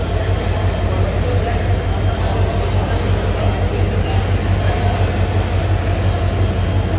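Steady low rumble of the Paryatak Express, a passenger train to Cox's Bazar, at Kamalapur station, continuous and loud with a constant engine drone and faint background voices throughout.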